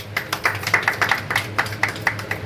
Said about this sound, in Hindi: इसके लिए जोरदार ताली बजनी चाहिए।